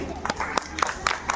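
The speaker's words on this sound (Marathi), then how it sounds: "त्यांचंही टाळ्या वाजवायच्या आहे मुलांनी" A brief burst of children clapping at a village school gathering, quick irregular claps close by with talking over them.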